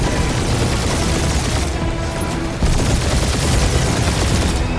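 Sustained gunfire in the Marvel's Guardians of the Galaxy video game, a loud, dense barrage of shots and blasts layered under a game soundtrack, with no pause across the stretch.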